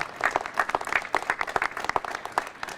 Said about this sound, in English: Give him a round of applause and his family.